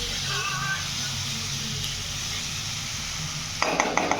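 Veg fried rice stirred and frying in a pan in a home kitchen, a steady broadband sizzle with scraping stir strokes, and a burst of metallic clatter from the pan and utensil near the end.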